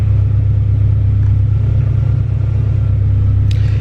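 A Honda Civic EK hatch with a B18 VTEC engine runs on a dyno, a loud steady low rumble and engine drone with a brief higher burst near the end.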